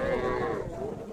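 A cow lows briefly at a cattle market where dairy cows stand in rows, a single fairly close moo over a faint murmur of the crowd.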